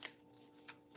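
Cards riffle in a few quick, soft bursts, close and quiet, with no talking.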